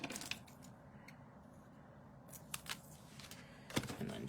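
Scissors snip through planner washi tape in a few faint, quick cuts, with a louder closing snip near the end against a low background hiss.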